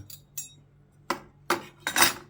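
Metal spoons clink together in a few sharp, bright taps, two lighter ones followed by three louder strikes close by, while seeding pomegranates.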